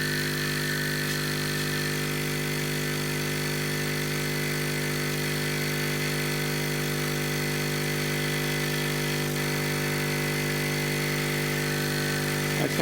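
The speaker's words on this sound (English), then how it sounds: "Now let's turn the pump on." A laser engraver's air assist pump runs continuously, giving off a loud, steady vibrating hum with strong tonal drone that stays unchanged throughout, with no talking.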